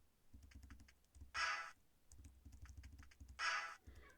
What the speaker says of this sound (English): you hear a soft clicking noise coming from the levers to the south